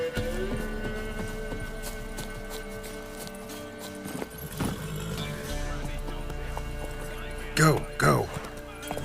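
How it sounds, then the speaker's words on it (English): Horse hooves clip-clop at a brisk gallop amid The Witcher game music and ambience, with a voice speaking briefly and a couple of louder thuds near the end. "Horses!"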